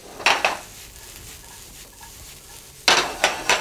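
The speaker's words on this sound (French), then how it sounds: "On la laisse bien chauffer pour faire sauter les cèpes. Et là, on les fait rissoler." Porcini mushrooms sauté in hot duck fat, with a low sizzle beneath sharp clinks and scrapes of a utensil against the pan, heard in two short bursts separated by a quieter stretch.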